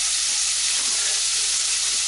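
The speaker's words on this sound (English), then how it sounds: "The reason we fry it first is it creates a textural element within the rice itself." Rice frying in a hot pan before any frozen peas go in, giving a steady, loud broadband sizzle that hisses without a break from start to finish, with no talking.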